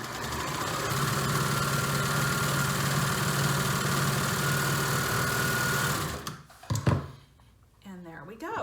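Sewing machine stitching closed a hood opening, running steadily and loudly for about six seconds before stopping, followed by brief handling noises.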